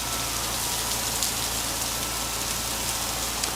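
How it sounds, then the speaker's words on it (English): Steady, heavy tropical storm rain pours down in a continuous dense hiss, with a low rumble underneath throughout. "It is pouring rain."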